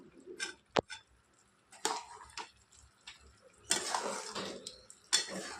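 Boondi, tiny gram flour pearls, being stirred through sugar syrup in a pan over a medium flame for motichoor laddoo, giving sparse close clinks and soft scraping with a few louder knocks and pauses between, no talking.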